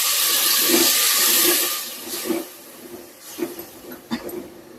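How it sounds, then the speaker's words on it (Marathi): Water is poured into hot, frying masala for a spicy village-style egg curry, giving a loud sizzling hiss that fades over a couple of seconds, followed by quieter bubbling and spattering pops. "तर त्यामध्ये आता पाणी टाकून घेऊया."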